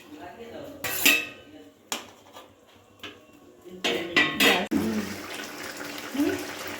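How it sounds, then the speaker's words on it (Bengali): Swamp barb fish poured into a pot of boiling spicy curry sauce, giving a few loud clattering, splashing bursts with bubbling in between, close by. "এইবারে আমি মাছগুলো সমস্ত মাছগুলো আমি ঢেলে দিচ্ছি"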